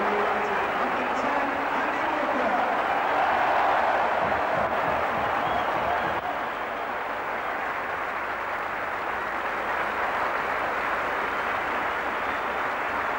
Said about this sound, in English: And the crowd salute him.